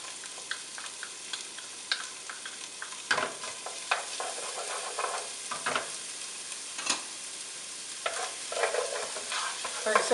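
Yellow, orange and red peppers with onions sweating in a little butter in a pan, a soft continuous sizzle broken by occasional louder stirring scrapes and clicks of a utensil, close by and without speech.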